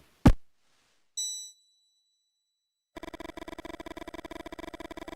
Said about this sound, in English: Suddenly, the bell rings